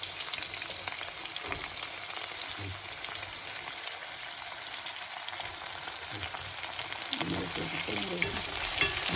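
Cut garlic sizzles and fries steadily in a pan for a spicy prawn curry, a close, constant crackle with occasional stirring and faint talk in the background.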